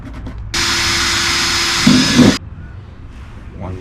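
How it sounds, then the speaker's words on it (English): Power drill boring mounting holes for a DIY lithium battery box: one loud, close burst of whirring lasting about two seconds, the pitch dipping as the bit bites, then it stops. "you drill it with a driller"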